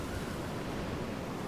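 A sandstorm in the video game Jurassic World Evolution 2 roars as a dense, steady rush of wind, loud and unbroken, with no voices over it.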